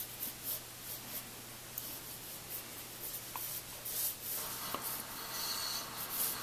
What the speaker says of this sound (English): I'm using an HB pencil